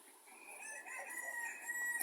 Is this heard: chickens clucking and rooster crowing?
yes